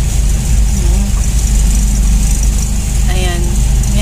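Cars, pick-ups, trucks and motor tricycles idle at a busy rice market, a steady low engine rumble running throughout with faint crowd chatter and brief higher tones mixed in.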